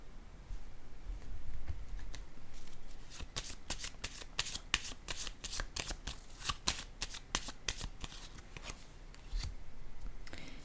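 Tarot cards are handled and laid down on a table in a steady run of crisp, close flicks and snaps that grows denser and faster midway, with a faint voice now and then.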